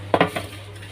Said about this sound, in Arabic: عندي صينيه بقى هدهنها دهنه كويسه من الزيت